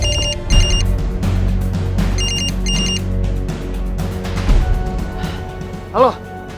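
A telephone rings in short repeated bursts of bright electronic trills, with other sounds and a voice briefly mixed in.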